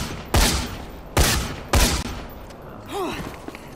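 Three loud, sharp gunshots from a split shot weapon in Dead Rising 3, spaced about half a second apart, each with a short ringing tail, followed by a brief rising and falling tonal whine.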